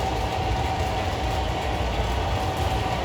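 A newer-edition model Freedom Train runs on a layout track, a steady loud rolling rumble with a faint continuous mechanical whine and no pauses.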